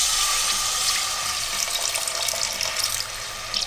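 Tamarind water poured from a tumbler into a pressure cooker while making tamarind rice, a steady close splashing trickle that runs for a few seconds and eases toward the end, with no talking.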